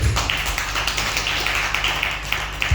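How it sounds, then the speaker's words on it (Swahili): Congregation clapping at a Sunday church service, a steady rhythmic stream of many hands clapping together, close and fairly loud over a low hum. "Tupige makofi anapokea."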